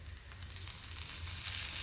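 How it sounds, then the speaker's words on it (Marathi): Green chillies frying in oil on a tava for pithla, a soft continuous sizzle with a low bubbling hiss, quiet and steady with no talking. "मिरची छान खरपूस तेलात फ्राय करून घ्यायची"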